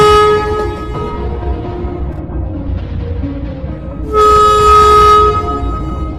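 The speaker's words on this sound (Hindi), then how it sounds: "ये लोग बातें कर ही रहे थे कि तभी अचानक ट्रेन रुक जाती है।" A cartoon train jolts to a sudden stop, marked by a loud, sustained horn-like whistle that swells near the end over a steady rumbling background.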